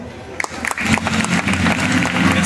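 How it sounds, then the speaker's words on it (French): Applause from a pageant audience at the Miss Beaucaire 2021 beauty contest, a burst of scattered claps that thickens into steady clapping over a background of voices. "je compte sur vous pour vraiment les applaudir"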